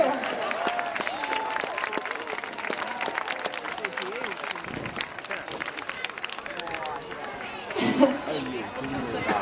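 Audience applause breaks out at an aquarium walrus show as a large Pacific walrus enters, a broad patter of clapping mixed with crowd chatter and an announcer's voice over the top, with a brief louder burst near the end.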